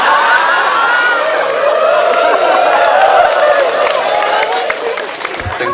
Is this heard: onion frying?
no